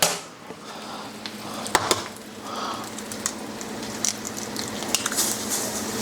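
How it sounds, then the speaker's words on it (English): An egg fries on a non-stick griddle with a soft continuous sizzle and crackle, punctuated by a few light taps and pops, close and moderately quiet. "Fry up one egg."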